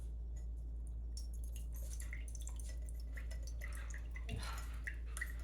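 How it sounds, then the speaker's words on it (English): Coconut water draining out through holes opened in an older coconut, heard as faint irregular drips and small liquid splashes over a steady low hum, close and quiet, with no talking. "Just drain out your fluid."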